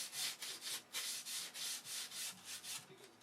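An old finish is stripped by hand with a back-and-forth rubbing scrub, about a dozen rhythmic, close strokes with short gaps between them and no talking.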